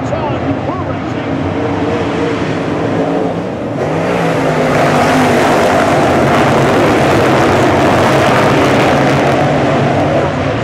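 A field of dirt late model race cars roars around the track at Bubba Raceway Park, engines revving and rising into a loud, sustained, layered drone as the pack accelerates under green.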